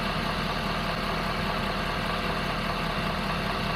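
A 2010 Ford F550 diesel, losing coolant, idles steadily nearby with a constant low rumble and a faint knocking texture, no voices over it.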